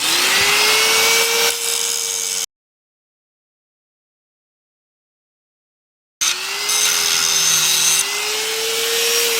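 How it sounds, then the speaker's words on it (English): Metal is ground during front suspension fabrication: a loud power-tool whine with a wavering pitch runs in two stretches, separated by several seconds of silence. "Well, a little more grinding."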